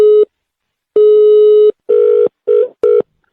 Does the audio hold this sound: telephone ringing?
yes